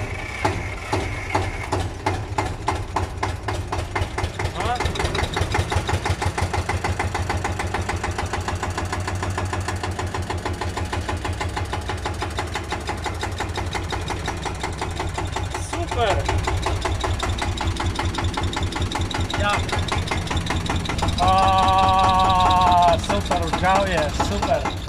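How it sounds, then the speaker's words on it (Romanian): A 1968 Steyr 86 tractor idles after a cold start with a steady, loud, knocking diesel chug that runs throughout, rising briefly near the end, while people talk nearby. "Lepo prede motor."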